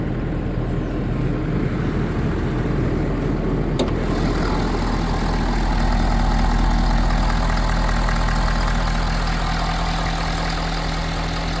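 The engine of a 2017 Ford service truck idles with a steady, close, low rumble and faint mechanical hum, with no voices over it.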